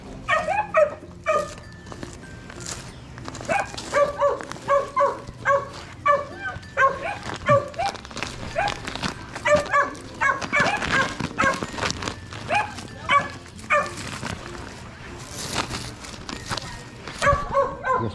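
Repeated dog barks and yips in quick bursts, fairly close and loud, continuing throughout with short whimpering notes between them.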